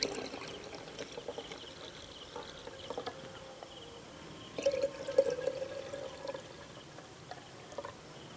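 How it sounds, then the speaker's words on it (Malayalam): Orange juice is poured into a glass over ice cubes for a Palakkad-style kudam kalakki sharbat. It makes a soft, steady liquid trickle with a brief louder splash midway, all fairly faint. "ഇനി നമ്മൾ റെഡിയാക്കി വെച്ചിട്ടുള്ള ഓറഞ്ച് ജ്യൂസ് ഇതിലേക്ക് ഒഴിച്ചു കൊടുക്കാം."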